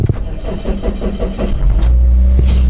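A minivan engine at a car market, out of petrol, cranks with a loud, rapid rhythmic chugging from the starter for over a second, followed by a steadier low mechanical hum.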